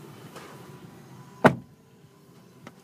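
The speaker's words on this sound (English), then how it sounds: "If you heard the door closing, it sounds nice from the inside, it sounds a little tinny from the outside" A 2012 Toyota RAV4 door shuts once with a single muffled thump heard from inside the cabin, followed by quiet interior hum.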